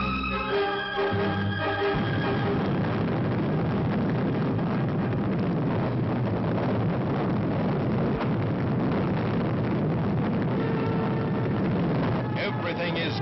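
Atlas rocket lifting off with the Mercury Friendship 7 capsule, 360,000 pounds of thrust: a loud, continuous broadband roar that holds steady throughout, with a brief tonal buzz at the very start.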